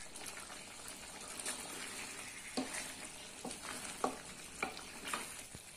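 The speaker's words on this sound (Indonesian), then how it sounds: "Kita masak sampai airnya sudah mulai menyusut." Beef rendang simmers in coconut milk as the liquid reduces, a quiet, continuous bubbling sizzle broken by a few soft stirring knocks, fairly faint and without talk.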